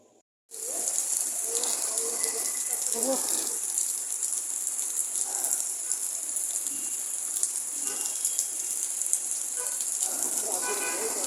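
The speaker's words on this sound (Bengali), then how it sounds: "মুসলধারে একটানা দেড় থেকে দুই ঘন্টার মতো বৃষ্টি হয়েছে" Heavy downpour on a road in Khulna, lasting well over an hour, with a steady broadband hiss that holds constant throughout the clip, plus scattered faint voices and small sounds underneath.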